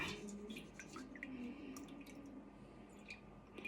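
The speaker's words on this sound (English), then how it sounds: "I'm going to let this sit for a bit and let some of the buttermilk strain out" Buttermilk strains out of freshly churned homemade butter in small, scattered drips, faint and close in a quiet kitchen with a low hum beneath.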